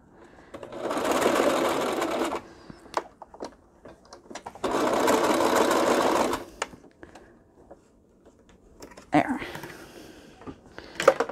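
A sewing machine stitches binding onto a small notebook in two steady bursts of about two seconds each, close and fairly loud, followed by clicks and handling noises and a short final run.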